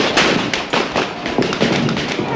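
Police fire shots at a street protest, a rapid, dense crackle of loud overlapping bangs. The pops come close together in irregular bursts with no talk over them.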